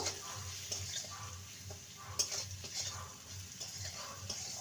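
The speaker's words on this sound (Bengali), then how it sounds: "আর দেব হলুদ গুঁড়ো ভালো করে মিশিয়ে নেব" Turmeric powder and salt are stirred into vegetables frying in a pan for a spinach fry. A quiet sizzle runs under soft, regular scraping strokes from a spoon, all fairly faint and close.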